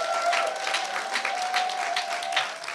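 A church congregation at an anniversary thanksgiving service gives a brief burst of steady applause, moderately loud and even, with a faint sustained tone beneath it.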